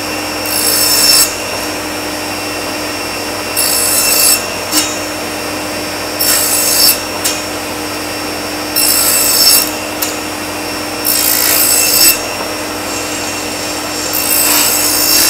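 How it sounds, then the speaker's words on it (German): Small wooden blocks being sawn off in a workshop: six separate bursts of rasping saw strokes, each about a second long, with short quiet pauses between them. "Ich schneide mir mal eben ein paar kleine Klötzchen ab."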